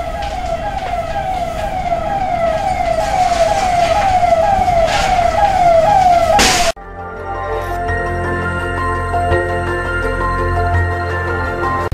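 Fire engine sirens wail in a loud, rising and falling sweep at a bakery fire in Gumanpura market, Kota, Rajasthan, then cut abruptly to a steady, lower droning sound.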